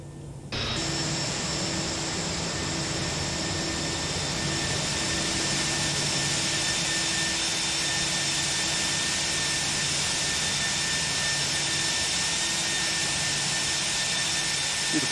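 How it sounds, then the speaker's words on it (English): CFM jet engines of an Airbus A319 in the X-Plane flight simulator, a steady loud roaring whine with sustained tonal hum that starts abruptly and holds constant, with no talking. "Beautiful CFM engines in our Airbus A319"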